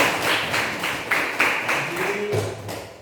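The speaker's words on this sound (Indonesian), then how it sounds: "Iya, tepuk tangan dulu." A classroom applauding, a steady patter of many hands clapping at a moderate distance, with a voice briefly speaking over it near the end.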